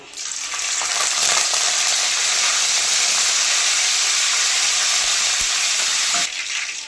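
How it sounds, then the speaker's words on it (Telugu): Mustard seeds, cumin and curry leaves hit hot oil in a pan, bursting into a loud, dense, continuous sizzle and hiss that holds steady for several seconds before suddenly easing at the end, with no voices. "ఆయిల్ వేడైన తర్వాత ఆవాలు కొంచుకొని ఆవాలు వేసుకోవాలి జీలకర్ర కరివేపాకు"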